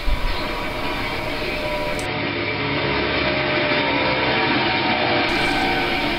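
A model train rolls steadily past a signal tower on a layout toward a yard departure track, giving a continuous loud rumble and rattle with no pauses.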